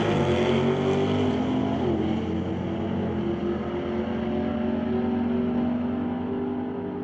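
Super Shifter drag racing cars at an NHRA event roar loudly at launch, a sustained high-revving engine blare whose pitch shifts as they pull away, fading slightly toward the end.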